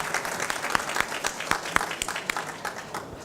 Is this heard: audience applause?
yes